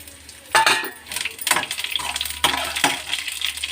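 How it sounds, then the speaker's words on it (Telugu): Fresh coconut pieces and sesame seeds fry in a pan, with soft sizzling and a few sharp clinks and scrapes of a spoon stirring against the metal, fairly quiet and close. "ఈ పచ్చి కొబ్బరి ముక్కలు కూడా వేసుకుందామండి. నువ్వులు కూడా వేసుకుందామండి లాస్ట్లో."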